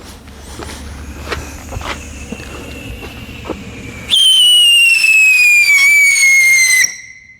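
After some scattered footsteps and crackles, a loud Whistling Pete firework screeches with a slowly falling pitch for about three seconds, then cuts off.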